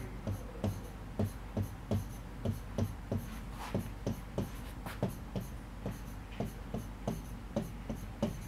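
Marker or chalk strokes on a board during a chemistry lesson, a steady run of short, close rubbing scratches in quick rhythm, repeating evenly throughout with no talking.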